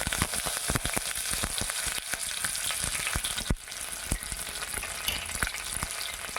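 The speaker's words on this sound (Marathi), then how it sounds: "आपला लसूण छान असा गुलाबी झालेला आहे त्याच्यामध्ये कढीपत्त्याचे पानं घालून घे" Curry leaves are added to garlic frying in hot oil, setting off a close, steady crackling sizzle with dense spitting pops and a brief louder burst midway, without any voices.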